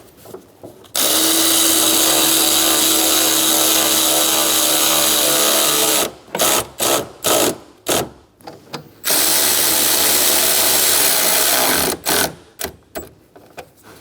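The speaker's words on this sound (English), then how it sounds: "Snug the bolts down." A power tool drives in the radiator mounting bolts on a 2014-2018 Chevrolet Silverado 1500: a loud, close motor whine runs for several seconds, then stops and comes back as short bursts, another long run, and more quick pulses.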